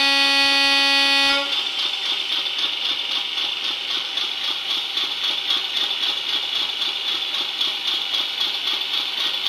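A JLTRT Class 50 model diesel locomotive sounds a sustained two-tone horn blast for over a second, loud and close, then cuts off to a steady rattling engine idle with rhythmic clatter.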